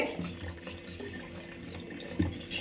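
Lukewarm water pours from a jug into gram flour for yogurt kadhi, a soft, steady trickle and splash heard fairly quietly and close, with a slightly louder splash near the end.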